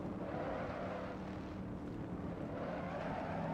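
Shelby Cobra 427 lapping the Nordschleife in Assetto Corsa, its V8 droning steadily with dense, continuous tire roar that swells slightly and then eases, loud and unbroken, with no voices.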